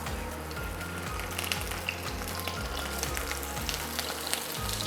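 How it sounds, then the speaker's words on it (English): Sausage pieces frying in oil in a hot pan give a steady, dense sizzle with fine crackles throughout, close and even, with no voices. "So you have your hot pan on oil."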